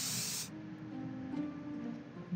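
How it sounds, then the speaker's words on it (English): Red paint spraying in the Return to Grisly Manor cue ball painting puzzle: a loud, bright hissing spray burst for about half a second, then a low hum of game ambience. "and now spray red."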